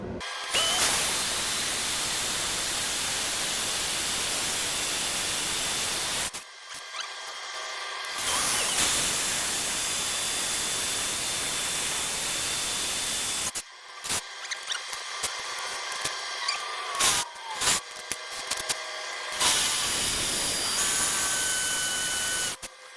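A power drill whirs steadily in several long bursts while drilling holes to mount folding steps on a skid steer, with short pauses and a stretch of stuttering, stop-start drilling toward the end.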